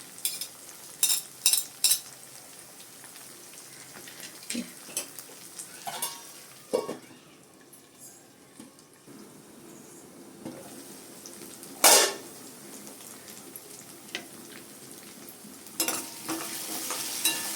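Ginger garlic paste being stirred and sautéed in a pan for chicken gravy, a low continuous sizzle broken by sharp spoon scrapes and clanks at irregular intervals, close and without speech.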